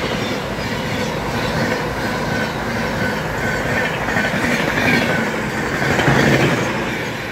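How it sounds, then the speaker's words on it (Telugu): Gautami Superfast Express train running from Lingampalli to Kakinada passes at speed close by, a steady loud roar of wheels and carriages with clickety-clack rhythm and a brief rise near the end. "గౌతమి సూపర్ ఫాస్ట్ ఎక్స్ప్రెస్ అయితే స్కిప్ చేసింది"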